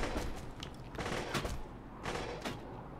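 Rapid bursts of gunfire from the Borderlands 2 video game crackle in clustered volleys, loud and dense, with short gaps between repeated automatic strings and no talking.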